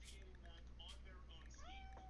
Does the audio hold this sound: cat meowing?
yes